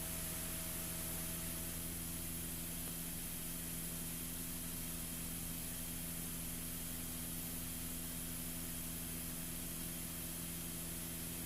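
The engine of a Christen Eagle II aerobatic biplane drones steadily in flight, a loud constant hum with wind rush and a sustained tonal whine, unbroken and with no talk.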